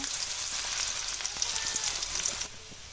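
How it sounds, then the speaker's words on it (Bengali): Chopped onions sizzling in hot oil in a kadai, a steady close crackling fry that eases slightly near the end, with no talk. "এরপর আমি কুচি করে কেটে রাখা পেঁয়াজ কুচি দিয়ে দেব।"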